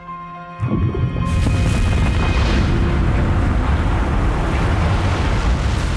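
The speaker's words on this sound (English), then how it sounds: "It all began with the Big Bang." A huge rumbling explosion effect representing the Big Bang, beginning with a tonal swell that erupts after half a second into a loud, sustained, deep roaring blast that fills the rest of the sound.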